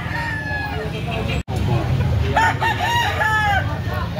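Roosters for sale at the Carbon market in Cebu crow repeatedly amid a noisy crowd, the calls rising clearly over steady hubbub and nearby chatter, with traffic murmuring in the background.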